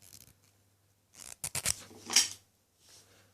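Quiet snips and crunchy cuts from scissors working through firm, rubbery warm polymorph plastic, a few bursts close up with pauses between.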